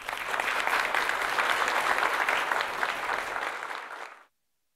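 Audience applause at a solar energy industry conference as a battery sales engineer is welcomed on stage: sustained, fairly loud clapping from a seated crowd that holds steady for about four seconds, then cuts off abruptly.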